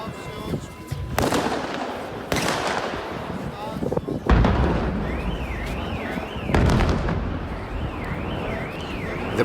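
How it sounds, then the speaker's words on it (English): Loud Orthodox Easter firework blasts on the Greek island of Symi boom one after another with rumbling echoes, while a car alarm they set off warbles in between. "The power of the explosions is setting off alarms."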